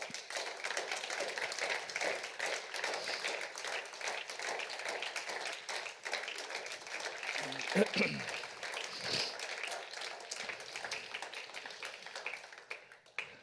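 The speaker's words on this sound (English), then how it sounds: "Give him a hand clap" A church congregation claps hands together on a Sunday morning, with dense, steady clapping running throughout at moderate loudness and a voice rising briefly near the middle.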